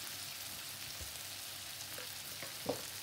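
A tomato and turmeric mixture sizzles softly in a pan with a faint, even hiss, joined by a few light scrapes of stirring and a single sharper clink close to the end.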